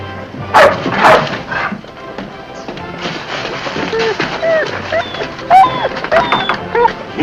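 A dog barks a few sharp times at close range, then whimpers and yips over a scuffle of thuds and movement, with someone speaking at the same time.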